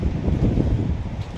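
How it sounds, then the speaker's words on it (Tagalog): Gusting wind roars and buffets steadily across the whole moment in the Troodos mountains, Cyprus, amid cold drizzle, a dense low rumble with no voices. "Ang lakas na mukhang hangin, mga kator."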